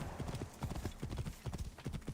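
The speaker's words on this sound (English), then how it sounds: "There's 2 donkeys here." Donkey hooves clip-clop in Assassin's Creed Origins, a steady run of close, distinct hoofbeats repeating through the whole stretch.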